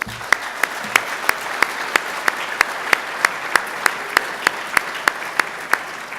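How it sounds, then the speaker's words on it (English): A dinner audience at the Board of Deputies annual dinner in London applauds, with sharp claps falling in a steady, evenly spaced rhythm over a dense bed of clapping from the room. "Let's give the board a massive round of applause"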